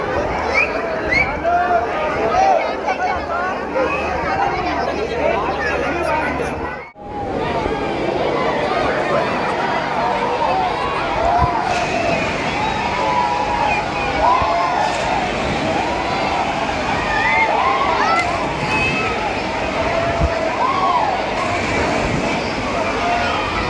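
A dense crowd roars and splashes in a busy resort wave pool at Vaity Aqua Resort in Virar, a steady wash of overlapping voices, shrieks and churning water that drops out for a moment before returning just as loud.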